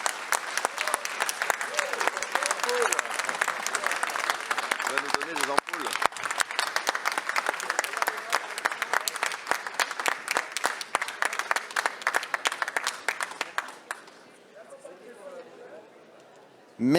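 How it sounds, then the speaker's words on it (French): An audience at a master-of-ceremonies eloquence contest final at a funeral-trade show in Paris gives the finalists a long, lively round of applause, crisp individual claps standing out, with some voices heard before the clapping dies away near the end. "vous pouvez encore les applaudir une fois"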